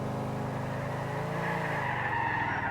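A car in the video game GTA 4 skids with a long tire squeal over a steady engine roar, loud and continuous throughout with no talk.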